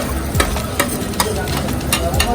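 Onion and spice mixture frying for chicken chops at a street food stall, a steady sizzle broken by repeated rhythmic scraping and clinking of a metal spatula in the pan, close and loud.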